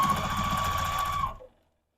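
A sewing machine stitches quilt blocks together, a close continuous whirring hum that runs steadily and then stops abruptly, leaving silence.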